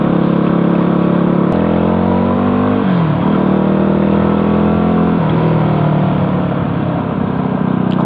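A motorcycle engine pulls hard in one gear without downshifting, a loud continuous drone that holds steady with small shifts in pitch and rumbles close to the rider throughout, with no talk.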